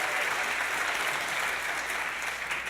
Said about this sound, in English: let's give a hand clap of praise in the way they really deserve it